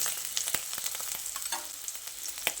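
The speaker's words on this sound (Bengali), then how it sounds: "এবার আদা ও রসুনটা দিয়ে পেঁয়াজের সঙ্গে আরও কিছুক্ষণ ভেজে নিতে হবে।" Ginger and garlic fry with onion in a pan, a steady sizzle punctuated by sharp spatula scrapes and taps at irregular intervals, close and alone.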